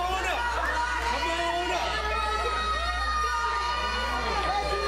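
Crowd at a live wrestling event in Lewisburg, steady loud cheering, shouting and whooping with children's voices, continuous and close, with a low hum underneath.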